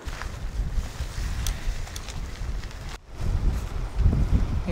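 Strong wind gusts buffet a microphone at a quiet seaside campsite in Taean, a steady roaring rumble with a brief lull near the end before the blustery noise surges back louder.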